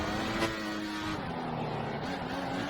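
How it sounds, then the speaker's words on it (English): A Formula 1 car in a video game racing at Brazil holds a steady, high-pitched engine whine, continuous and moderately loud throughout. "We think the car behind is running on full revs."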